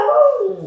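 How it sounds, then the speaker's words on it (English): A pet dog giving one drawn-out, howling bark indoors, loud and close, reacting to a moving security camera; a single falling yelp with no speech. "You're hearing my dog bark because it sees it moving and doing things, and so Bailey's kind of freaking out about"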